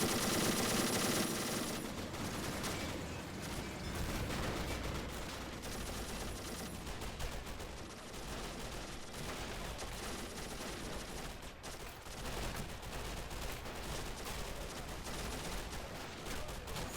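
A Czechoslovakian-designed tank's machine gun fires in a Men of War battle, sending dense, continuous bursts of rapid gunfire that rattle on without pause for the whole stretch at a moderate level.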